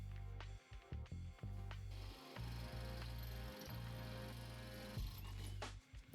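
A power drill bores through a metal truck bed, a loud whining grind that starts, stops and restarts several times before running steadily, with brief pauses between bursts.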